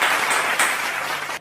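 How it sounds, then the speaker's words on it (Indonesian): Children break into brief applause during a class session, a dense burst of clapping that runs steadily and then cuts off abruptly. "beri tepuk tangan untuk kita semua"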